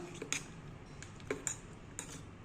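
A spoon stirs a coconut-free tomato chutney, giving a few soft, sparse clinks and scrapes against the pot, quiet and close with no talking.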